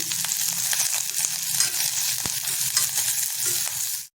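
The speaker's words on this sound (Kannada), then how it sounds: "ಕಡ್ಲಿಗೆ ಒಂದು ದೊಡ್ಡ ಚಮಚ ಎಣ್ಣೆ ಹಾಕ್ಕೊಂಡಿದ್ದೀನಿ ಸಣ್ಣ ಹೆಚ್ಚಿಕೊಂಡಿರೋ ಕ್ಯಾಬೇಜ್ ಅಂದರೆ ಎಲೆ ಕೋಲ್ ಹಾಕ್ಕೊಂಡು ಒಂದು ಸುತ್ತು ಹುರ್ಕೊಳ್ತೀನಿ" Chopped cabbage fries in a large spoonful of oil in a wok, giving a steady, close, dense sizzle with stirring scrapes throughout and one sharp clack of the spoon midway, ending abruptly.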